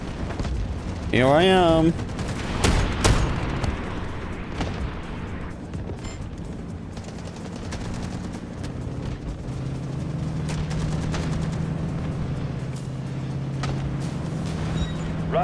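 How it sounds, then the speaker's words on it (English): Artillery barrage explosions hit in Delta Force, sharp blasts early on fading into a lingering low rumble, while a voice speaks over the din. "Artillery barrage incoming."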